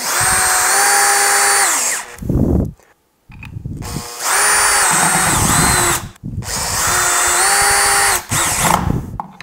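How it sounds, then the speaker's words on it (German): A power screwdriver drives screws through a timber-frame anchor into wood, with three long loud whirring runs, each winding down and separated by brief pauses and handling noise. "durch diese Löcher hindurch, verschraubt ihr beide mit dem Holz."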